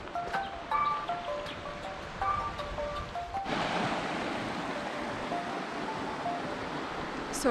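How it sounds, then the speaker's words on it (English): Flowing water of Greaves Creek, a steady broadband rush that swells loud and close after a few seconds of quieter ambience with faint chirps and tones. "it's nice to hear the water after many steps and descent"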